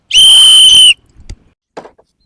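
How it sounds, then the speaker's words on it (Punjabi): A person gives one loud, clear, steady whistle lasting under a second, followed by a few faint clicks and shuffles. "ਮਿੱਠੀ ਸੀਟੀ ਮਾਰਦਾ ਹੈਗਾ"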